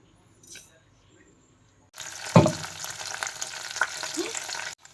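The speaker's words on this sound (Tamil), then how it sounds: "முதல்ல எண்ணெய் ஊற்றிக்கலாம். முதல்ல கடுகு போட்டுக்கலாம், கொஞ்சமாக சீரகம் போட்டுக்கலாம்" Mustard seeds and cumin hitting hot oil, near silence broken by a brief soft noise, then a sudden loud burst of sizzling and spattering that continues steadily before stopping abruptly.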